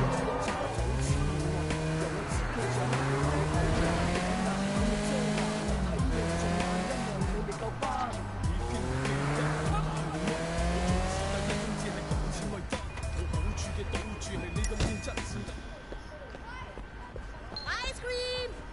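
Car handbrake turn in the video game Sleeping Dogs: a loud engine roar with long, wavering tire squeals and skidding that fade near the end, with no talk over it.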